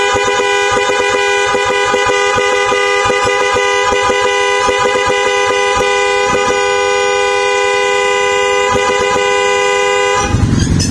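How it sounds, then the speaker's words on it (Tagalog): Horn of a Raider R150 or Mio Sporty motorcycle blares in a long, loud, steady honk with rapid stuttering pulses, cutting off near the end. "Kung sakali magbubusina po kayo, ito po yung busina mga sir"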